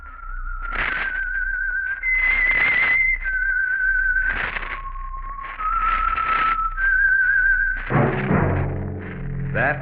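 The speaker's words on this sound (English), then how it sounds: "That whistle is your signal for the Signal Oil Program, The Whistler." A melodic tune whistled in clear sustained notes with short breaks between phrases, ending with a deeper musical hit, the theme of the radio drama The Whistler.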